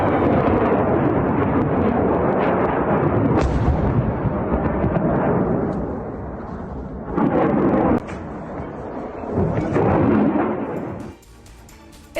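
Explosions from US missile strikes on militia sites in Anbar, Iraq, heavy rumbling blasts and booming bursts running almost continuously, with distinct louder surges near the end before the sound drops away.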